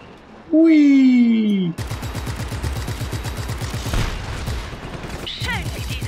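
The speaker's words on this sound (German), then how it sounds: "Schön, wie diese Benzintanks explodieren" Fuel tanks explode in the video game Just Cause 3: a falling whistle-like tone gives way to a dense, roaring burst of blasts and rapid rhythmic cracks that rumbles on loudly to the end.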